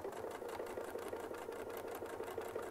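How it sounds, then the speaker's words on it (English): A domestic sewing machine stitches a quilt at a slow, even pace, its soft rhythmic clatter steady and close, fairly quiet and without talk. "I have to sew really slowly to make sure it's not going crazy."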